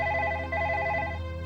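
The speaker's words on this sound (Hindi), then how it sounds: "पास बैठी है, फोन उठाती क्यों नहीं?" A telephone rings steadily in a Hindi TV drama scene, its repeating electronic trill pulsing in bursts over a sustained low hum, fairly loud and close with no talking over it.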